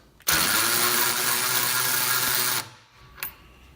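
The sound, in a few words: power drill driving supercharger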